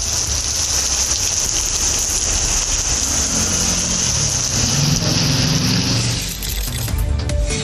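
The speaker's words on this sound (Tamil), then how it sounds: "மயிலாடுதுறை மாவட்டத்தில் இரவு 7 மணிக்கு பிறகு கனமழை கொட்டியது." Heavy evening rain in Mayiladuthurai district pours as a loud, steady broadband hiss, with a brief dip and some passing vehicle rumble near the end.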